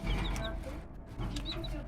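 Chickens kept at home clucking close by, several short soft clucks and chirps in a quiet indoor setting.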